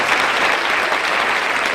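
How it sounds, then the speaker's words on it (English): A rally crowd at a justice gathering in a cultural center claps in dense, steady applause throughout, loud and close with no pauses. "Y'all give them a round of applause."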